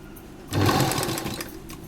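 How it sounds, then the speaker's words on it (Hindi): A sewing machine starts abruptly and runs a fast, steady stitch along the edge of an A-line kurta, close and clear, with a light whirring rattle that fades slightly toward the end. "अब हम एक सिलाई यहाँ किनारे लगाएंगे।"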